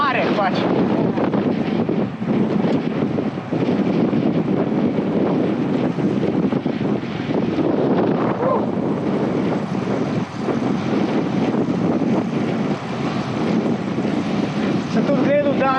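Strong wind roars and buffets the microphone without pause during a bike climb, a loud, dense rumble with gusty fluctuations, and people speak faintly beneath it.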